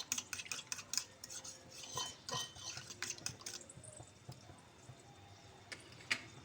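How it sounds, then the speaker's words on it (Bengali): A fork beats eggs in a bowl with rapid, continuous light clicking and tapping, close but quiet, with no speech. "একটা কাঁটা চামচ দিয়ে ভালো করে ফেটিয়ে নেব"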